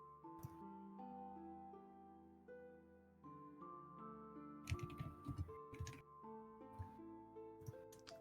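A Dungeon Master types on a computer keyboard during a D&D session, with bursts of sharp key clicks in the second half over steady background music.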